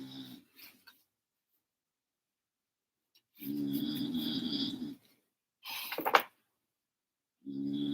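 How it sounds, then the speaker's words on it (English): A sleeping dog snores loudly in a few long, drawn-out rasping bursts separated by quiet pauses, close by and with no talk. "She's loud when she snores."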